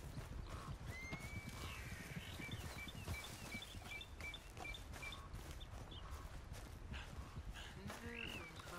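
Horse in the western video game Red Dead Redemption, faint clip-clopping hooves and a short whinny near the end over a busy outdoor game ambience with chirping birds, quiet and distant.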